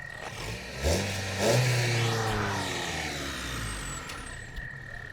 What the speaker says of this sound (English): we can hear the turbo from the front really good